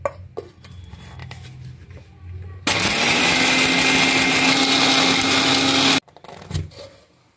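A mixer grinder grinds fried cashews into fine powder for rava laddu: a loud, steady high whir runs about three seconds, starting and stopping abruptly, with quieter kitchen handling before and after.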